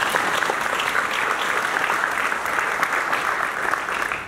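Steady, moderately loud applause from a crowd at a community security meeting on Staten Island, with dense clapping and no clear speech over it.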